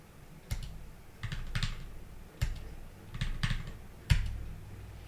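Faint keystrokes on a computer keyboard come in short, irregular clusters of clicks with pauses between, as a root password is typed in a quiet room.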